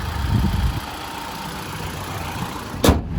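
A 2018 Mitsubishi ASX with a manual gearbox idles steadily with a smooth, even hum, with a sharp click near the end.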